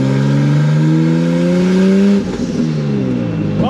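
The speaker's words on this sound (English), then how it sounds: "you can hear how aggressive the 410 is and how the motor seems to just wake up." Turbocharged widebody BMW E30 engine pulling hard under acceleration, a loud close rising drone that climbs in pitch, drops briefly at a gear change, then climbs again.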